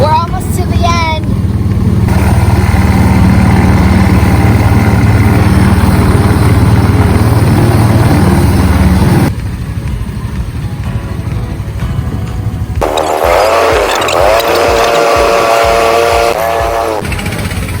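A gasoline-powered ride car on the Barney Oldfield Speedway track at California's Great America in Santa Clara, a small engine droning and buzzing close by, shifting in tone as it runs, with people talking over it.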